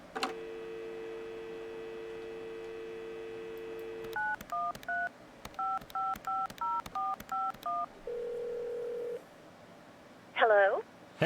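Telephone keypad dialing in an indie video game: a held dial tone, then a quick run of about a dozen short touch-tone beeps in steady rhythm, a brief buzz and a warbling ring burst, clear and close.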